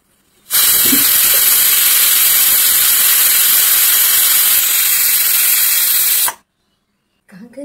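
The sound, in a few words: pressure cooker whistling and hissing steam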